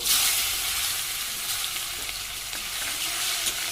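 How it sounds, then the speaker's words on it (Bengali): Chopped onions fry in oil with nigella seed, dried red chili and a little sugar for a fish curry, a steady close sizzle that continues alone without pause. "পেঁয়াজটা একটু ভাজা ভাজা করে নেব"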